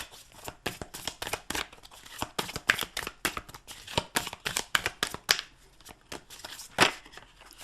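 Tarot cards being shuffled by hand in quick repeated riffles and snaps, close and crisp, in an irregular rapid rhythm with brief pauses between bursts.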